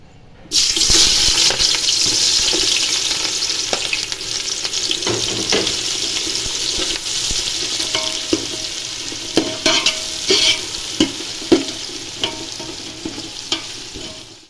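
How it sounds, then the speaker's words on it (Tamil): Onions dropped into hot oil in a pan for mutton kofta biryani, bursting into a loud hissing sizzle that gradually settles, with occasional spoon taps and stirring knocks. "பொன்னிறமாக நல்லா வெங்காயத்தை வதக்கிக்கலாம்"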